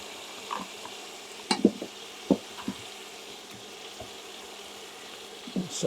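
Chicken frying in a skillet for a one-pot tortellini dish, a soft steady sizzle underneath with scattered utensil knocks and stirring scrapes, close and fairly quiet.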